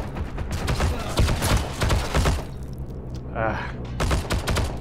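Gunfire in a multiplayer shooter, the player's own rounds landing short: dense bursts and volleys fill the stretch with a brief gap, mixed with other battle noise and a short voice.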